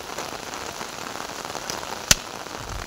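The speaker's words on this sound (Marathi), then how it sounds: "वन साइड पाऊस पडतोय आज" Steady rain patters across a muddy cricket ground, a continuous close hiss of drops with one sharp brief crack partway through, no voices.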